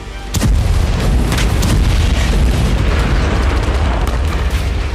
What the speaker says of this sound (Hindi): यूक्रेन के टॉर्स्की लेज इलाके में थर्मोबैरिक धमाके से भारी तबाही हुई।